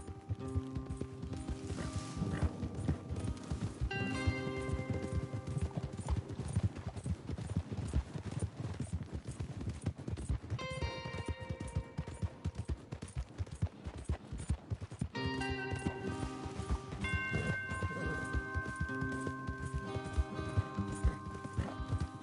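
Rhythmic clip-clop of several horses galloping steadily in the video game Red Dead Redemption 2, mixed with faint clinking and a horse neighing; no talking.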